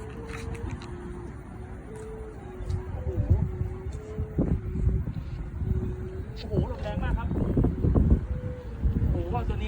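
Strong, gusty wind buffets the microphone while a 160 cm Chula kite is flown against it, a steady broadband rush with louder surges, someone talking over it throughout.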